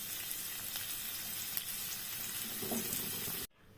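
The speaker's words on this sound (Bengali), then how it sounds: "আর বেরেস্তাটা করে নিই" Onions frying for beresta, a continuous dense sizzle with faint stirring, ending abruptly into silence.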